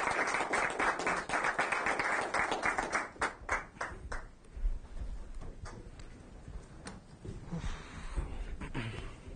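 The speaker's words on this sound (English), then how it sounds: "Let's give the speaker one more round of applause." Audience at an academic lecture on diffusion dynamics and distributed networking applauds, dense clapping for about four seconds that then thins out into scattered, fading claps.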